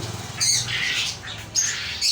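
Chickens squawk in a pet shop selling birds and foreign breeds, two loud close harsh calls separated by a short pause over a low background hum.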